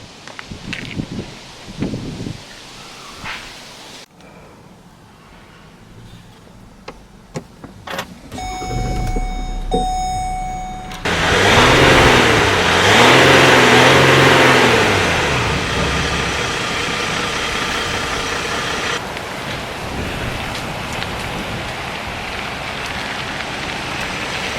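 Jeep Cherokee driving on the road, its engine rising and falling through gear changes with steady road and wind noise around the cabin and a rain-like hiss throughout.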